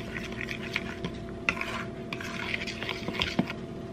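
Fork mixing food in a bowl during home supper prep, with scraping and clinking strokes in an irregular rhythm, some sharper taps standing out, close and moderately quiet, no talking.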